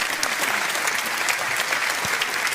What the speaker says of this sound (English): Round of applause there, ladies and gentlemen